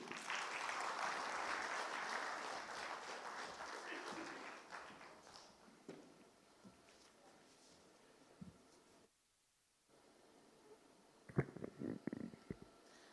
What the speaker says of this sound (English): So please give all of yourself a big round of applause.